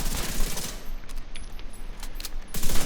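Rapid gunfire crackles in The Division 2 during a Chameleon Striker solo PvE build, with loud bursts of shots at the start and end and sharper scattered pops in between.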